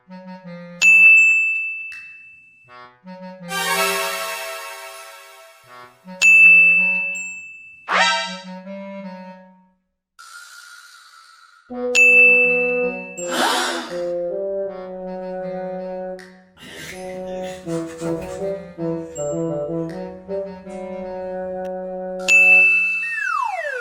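Phone notification tings, bright metallic single dings recurring several times among other chimes and tonal jingles, clear and fairly loud with gaps of silence between them, no talking.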